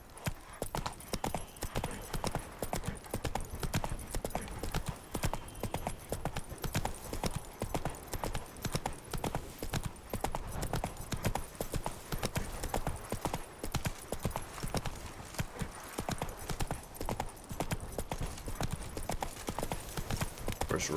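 Roach, the horse in The Witcher 3, gallops in a rapid, steady clip-clop of hooves that runs throughout, with faint game ambience and occasional voices beneath.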